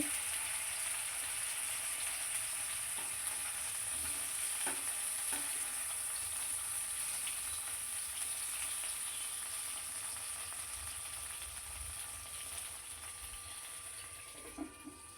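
Chopped tomatoes cooking in a little oil in a pan: a faint, even sizzling hiss that holds steady and slowly fades, with a few small taps and no voices.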